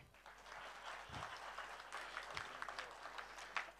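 An audience at a film music launch claps after a speech, a dense patter of many hands with a low hall rumble, moderately distant and fairly quiet.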